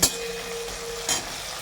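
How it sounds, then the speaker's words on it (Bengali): Tomatoes frying in oil in a pan give a steady, close sizzle for under two seconds, with a brief clatter at the start and another near the end. "টমেটো দিয়ে ভালো করে ভাজা হয়েছে দেখুন তেলের মধ্যে"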